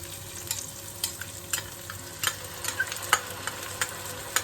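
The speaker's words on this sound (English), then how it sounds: "this has come up to sizzle nicely" Tomato sauce sizzles steadily in a pot, a soft crackling hiss with scattered pops and the occasional scrape of stirring, close by and moderately quiet.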